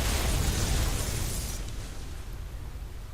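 Heavy blasts from tank shells in the StarCraft 2 video game, a dense, loud rumbling burst that fills the opening half and then decays into a lower, fading roar.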